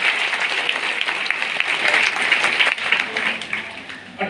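An indoor audience claps steadily for several seconds at a company event, a dense, even burst of applause with no talk over it.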